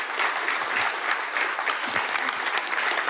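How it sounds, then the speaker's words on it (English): A conference audience applauds the panelists at a North Korean human rights dialogue, a steady, dense round of clapping that stays even and fills the room for the whole stretch without any voices over it. "Let's give them a nice round of applause."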